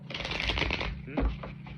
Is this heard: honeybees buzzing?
no